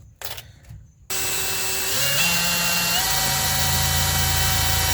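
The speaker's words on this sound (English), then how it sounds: "Gotta get drilled." After a second of quiet shuffling, a power drill bores a mounting hole while fitting a temporary fuse box to a 1990 Suburban with a 5.3 LS, a loud steady whine that rises in pitch as it spins up and holds.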